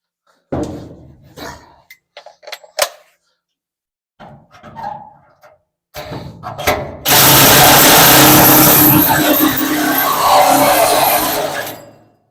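A cordless Sawzall reciprocating saw on a big battery cuts a hole through a newly installed firewall in a 1955 Chevy pickup, a loud sustained rasping burst after scattered handling noises and brief talk.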